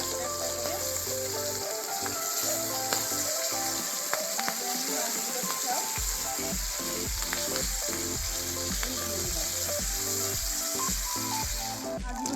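Pabda fish fry in hot oil with a dense, steady crackling sizzle close by, overlaid with rhythmic scraping and clinking as the pieces are turned in the pan.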